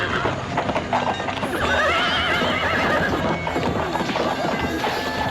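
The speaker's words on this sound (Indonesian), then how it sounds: "Melihat beberapa orang terjungkal dari atas kuda, Patih Purwodi segera menarik mundur pasukan berkuda" Horses whinnying loudly over continuous clip-clopping hooves in a battle scene of mounted troops from an Indonesian audio drama, a dense, busy layered effect with neighs rising through the middle.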